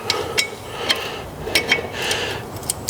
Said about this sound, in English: They're vented discs, ram a screwdriver in and that'll act as a breaker.